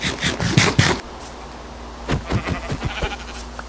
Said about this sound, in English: Oh, I brought a sheep!